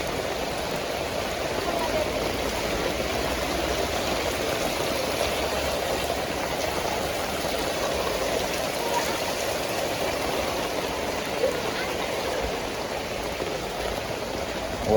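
Rainwater rushes steadily through a neighborhood street during heavy rainfall, a continuous close, loud flow with no talk over it.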